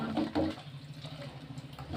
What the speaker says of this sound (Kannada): ಸ್ವಲ್ಪ ನೀರು ಹಾಕ್ಕೊಂಡು ಸೊ ಒಂದು ಮಿಕ್ಸ್ ಕೊಟ್ಬಿಡಿ